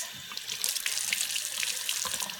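Hot water running steadily from a sink tap while a makeup sponge is washed, a close, even splashing stream with bright spattering throughout.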